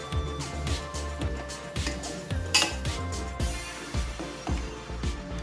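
Gongura leaves being stirred into thick chicken gravy in a pan, with a steady run of scraping, knocking utensil strokes against the metal and occasional clinks, fairly close and moderately loud.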